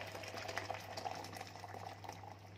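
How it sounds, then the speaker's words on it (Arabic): Hot water is poured into a pot of stuffed eggplant cooked for a fast day, giving a soft, continuous watery rush and bubbling that is faint and close, with a low steady hum underneath. "لان المحشي بقى صيامي فانا هحط ميه سخنه"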